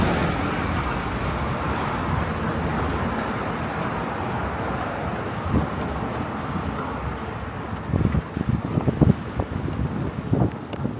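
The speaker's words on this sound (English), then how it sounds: "Wind picked up a little bit." Steady wind rushes over a Brooklyn street as road traffic hums continuously underneath, with a few brief louder knocks and passing-vehicle swells near the end.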